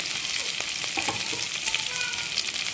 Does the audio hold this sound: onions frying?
yes